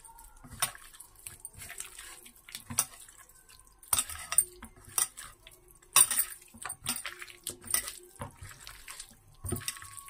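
Chicken mixed by hand with ginger paste and a little oil in a bowl, with wet squelching, clinks and running water from a nearby tap, moderately loud in irregular bursts and no voices.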